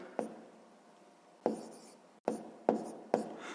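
A pen scratches across paper while a sixth-grade math solution is written out, with five short, close scribbling bursts separated by brief pauses.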